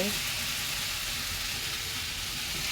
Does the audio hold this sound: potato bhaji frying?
yes